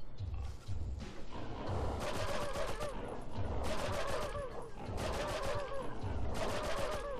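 Gunfire in Oddworld: Abe's Oddysee crackles in repeated rapid bursts with thumping impacts, carrying on almost without pause at a fairly loud level.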